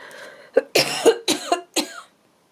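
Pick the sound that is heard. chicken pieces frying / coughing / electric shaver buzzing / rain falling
coughing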